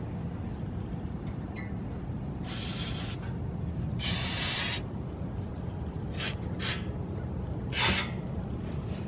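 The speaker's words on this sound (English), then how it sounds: "we're gonna go ahead and spray this on the bolts" Spray can of lubricant hissing onto the exhaust bolts of a 2015 Toyota Corolla LE, several short bursts of varying length over a steady low background rumble, close by.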